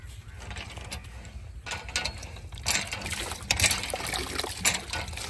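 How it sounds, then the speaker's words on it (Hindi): A village hand pump is worked steadily, its handle giving a rhythmic creak and clank while water gushes and trickles out close by, and a voice is briefly heard. "नल पानी भी बेहतरीन दे रहा है।"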